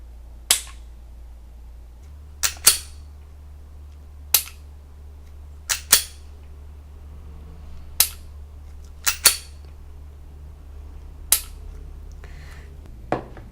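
Crisp dry-fire trigger clicks from an unloaded right-handed pistol fitted with a forward-mounted Mantis X trainer, about eight sharp isolated snaps at irregular intervals over a low steady hum, with no talking.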